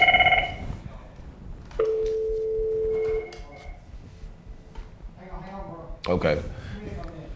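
A telephone rings as callers phone in to a talk show, with tonal electronic ring bursts and beeps coming in short spaced phrases amid background sounds.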